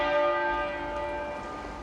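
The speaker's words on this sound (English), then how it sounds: "The bell going every minute." Funeral bell tolling, a single sustained ringing strike with rich overtones slowly decaying over a couple of seconds, resonant and fairly loud.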